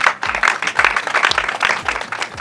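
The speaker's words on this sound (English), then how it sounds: "Can we clap for ourselves?" Group applause at a leadership graduation ceremony, a dense, loud wash of clapping running steadily throughout with no talk over it.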